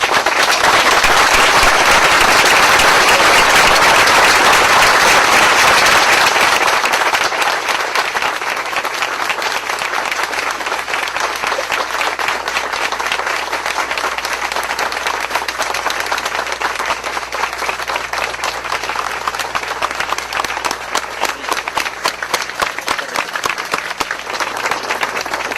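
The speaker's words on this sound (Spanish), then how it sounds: "Un aplauso para este líder." Loud, sustained applause from mourners at a funeral for a political leader, a dense roar of many hands that peaks early and then settles into steady, crackling clapping for the rest of the span.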